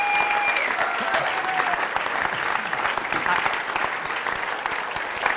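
Audience clapping after a lecture, dense and steady sustained applause from a large crowd filling the room throughout, close and loud.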